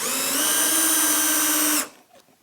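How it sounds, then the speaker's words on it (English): A handheld power drill boring a hole through a piece of sheeting, a loud steady whine for almost two seconds that cuts off abruptly, followed by faint handling noise. "So I've put it in my drill, and I've got my bit of sheeting, and I just hold it carefully and then press hard."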